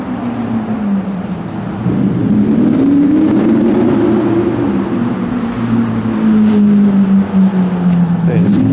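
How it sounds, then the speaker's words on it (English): A Lamborghini sports car drives past on a city street, its engine note rising and falling steadily over several seconds, loud and close amid general street traffic noise. "It's a Lamborghini."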